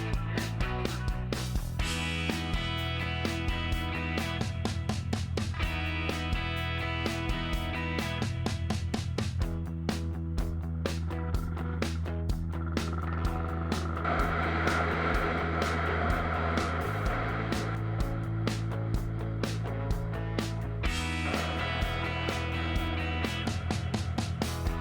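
A Yamaha SR400 motorcycle, built since 1978 and started only by kick lever with no electric starter, fires up and idles with a steady single-cylinder thump, then revs and pulls away, engine note rising and falling continuously throughout.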